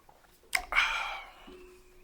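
A person takes a quick close-up slurping sip of lemon water, one sharp intake followed by a longer, softer draw that fades out.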